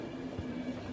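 A train in The Final Station rolls with a low, steady rumble and a faint tonal hum, fairly quiet and brief, with no voices.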